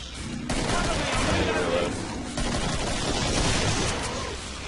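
Dense rapid gunfire from the video game Killing Floor, a continuous loud fusillade of shots with mixed voices underneath, carrying on nearly without pause across the whole stretch.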